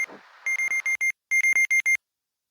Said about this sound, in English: That beep, that means it's at the bottom.